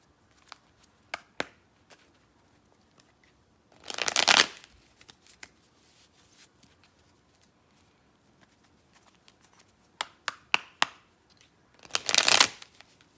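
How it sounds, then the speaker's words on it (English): Two bursts of cards being riffle-shuffled, a few seconds apart, with light clicks and taps of handling cards in between. "Let me just shuffle for a second"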